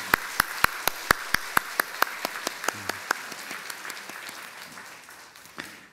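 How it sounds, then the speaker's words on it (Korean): A church congregation at a Sunday service claps to welcome visitors, starting with sharp, evenly spaced claps in unison that quickly blur into looser, scattered applause and fade out. "박수로 한번 환영하겠습니다"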